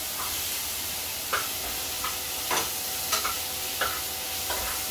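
Celery tossed into a pot of frying curry with garlic, giving a steady close sizzle and hiss broken by several soft stirring scrapes and clinks.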